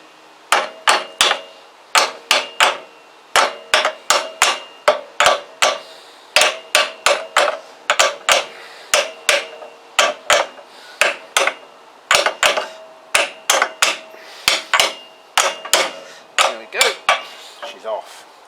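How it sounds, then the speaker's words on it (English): A hammer strikes repeatedly on a Kawasaki GPZ500S motorcycle frame part, loud, close, sharp metallic blows landing in quick irregular bursts of two to four with brief pauses between them. "I think it just needed a bigger hammer"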